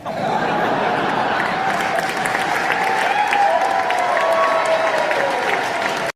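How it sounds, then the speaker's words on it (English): A crowd gives Prince Harry dense, sustained applause, with scattered chuckles and murmurs mixed in, before it cuts off abruptly. "he's so happy that he's getting applause"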